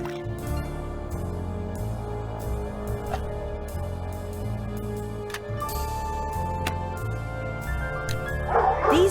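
Dogs in the Nancy Drew video game barking, yipping and whimpering over a sustained musical drone, a series of sharp clear barks spaced across the scene.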